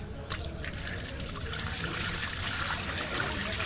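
Water trickles and splashes steadily at a pond while catla fish are released, a continuous liquid pouring sound close by with no talking.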